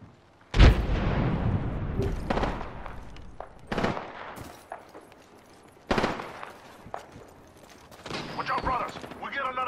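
A frag grenade blast and gunfire in a video game firefight: a heavy explosion near the start, then scattered sharp shots and bursts at varying distances over nearly ten seconds.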